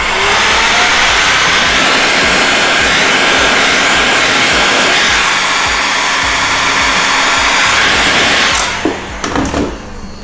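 A heat gun blowing hot air along the edge of paint protection film on a car bonnet, a loud steady whooshing roar held for about eight seconds before cutting out into handling noises.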